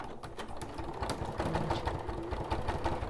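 A sewing machine runs a seam along a beach bag, its needle chattering in a fast, steady mechanical rhythm, close and continuous without pause.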